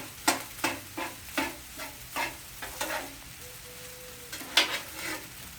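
Chicken fried rice sizzles in a pan while a utensil scrapes and tosses it in a regular rhythm, close and moderately loud, with no talking.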